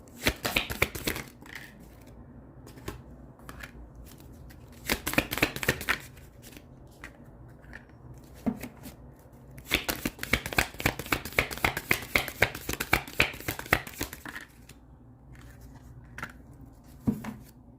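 Tarot cards are shuffled in several rapid riffling bursts separated by quieter pauses with light handling and card taps, close and crisp, with no talking.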